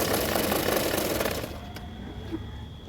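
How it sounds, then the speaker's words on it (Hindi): A sewing machine stitching pieces of a double katori blouse, running with a fast continuous whirring rattle for about a second and a half, then stopping, leaving quieter room noise. "अभी इस पार्ट को भी इसी तरह से सिलाई करूँगी"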